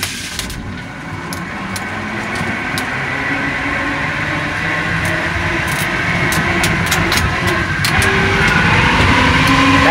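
An electric-motor conversion car with a Ford transmission pulls hard in first gear, giving a steady rising whine over road and tire rumble that grows gradually louder, heard from inside the cabin with no talk.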